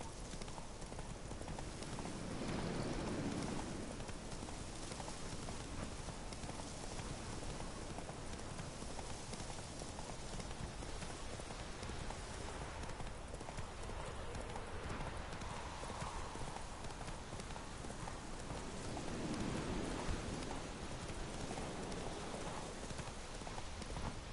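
A horse gallops through rain in The Witcher 3 video game, its steady, rapid hoofbeats running unbroken and fairly close beneath a constant wash of rain noise.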